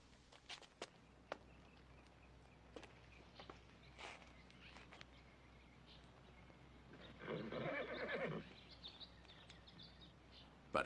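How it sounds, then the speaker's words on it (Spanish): A horse in a western film setting walks with a few scattered hoof thuds, then gives a brief whinny, faint and fairly close against a quiet outdoor background. "Conozco ese caballo."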